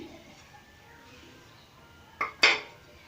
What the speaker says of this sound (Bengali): 8 ঘন্টা হয়েছে, আমি দইয়ের ঢাকনাটা খুলে দিচ্ছি।